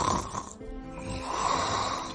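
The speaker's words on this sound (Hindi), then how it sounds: "कौन भर रहा है इतनी जोर से खर्राटे?" Loud snoring from a sleeping person, with rough, rasping breaths and snorts that swell and continue throughout, close and prominent with no talking.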